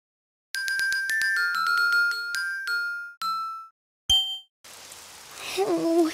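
In the Daniel Tiger's Neighborhood Spin and Sing children's video game, a run of bright chiming jingle notes gives way to the soft steady hiss of falling rain, heard alone without voices.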